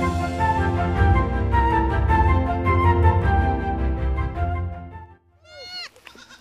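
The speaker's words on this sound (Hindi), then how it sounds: "इसके अंदर इन भेड़ के बच्चों को इन्होंने छोड़ दिया है।" Sheep and young lambs kept in a shepherd's shelter bleat nearby, with several wavering cries coming in the last second after a long stretch of dense, sustained sound.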